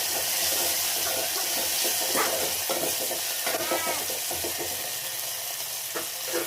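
Water is poured into a pan of hot tempering for moong dal sambar, setting off a loud, close hiss and bubbling sizzle with scattered splashes and clinks throughout, and no speech.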